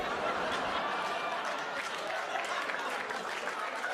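Audience applause and cheering at a live Daniel Tosh stand-up comedy show, a dense steady roar of clapping that fills the whole stretch with a few scattered whoops.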